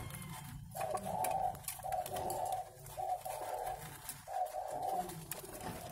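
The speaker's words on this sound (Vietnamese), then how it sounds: "Đây là những chú chim non nữa." Young spotted doves coo outdoors behind a house in a run of soft, rounded, repeated calls at moderate distance, set against steady background hiss.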